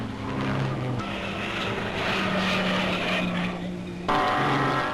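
1950s Mercedes Formula 1 race cars roar past on a track, loud continuous engine snarl that swells and shifts pitch as the cars pass close by, with a fresh surge near the end.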